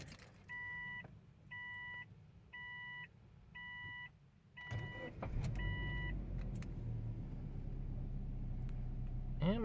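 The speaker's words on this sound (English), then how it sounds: "So now I'm going to turn the car on." A 2005 Subaru Forester XT, after a Seafoam treatment, turns over after a run of repeated chimes, then its engine catches and settles into a steady, slightly rough idle close by.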